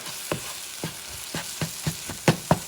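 Cod fish and eggs scrambled in a pan over medium heat, with a steady sizzle and a spatula knocking and scraping in regular, close, distinct strokes, about eight or nine of them, without talk.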